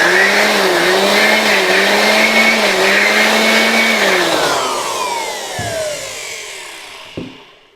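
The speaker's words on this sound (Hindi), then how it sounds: "उस होल्स के अंदर मैं साफ़ करना चाहता हूँ, तो इस ब्लोअर के मदद से मैं इसको इस तरह कर सकता" A handheld electric air blower whirs loudly while blowing dust out of the holes of an adapter, a steady high motor whine that slows and winds down toward the end, with a couple of handling knocks as it stops.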